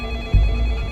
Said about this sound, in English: Listen, the other line is ringing.